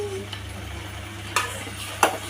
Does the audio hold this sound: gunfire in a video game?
no